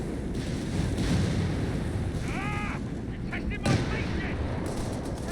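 Nebelwerfer rocket barrage in Company of Heroes 3, booming explosions over a constant rumbling battlefield wash, with a whining rocket streak and a few sharp impacts, while a commentator talks throughout.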